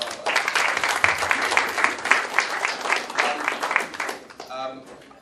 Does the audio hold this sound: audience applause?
yes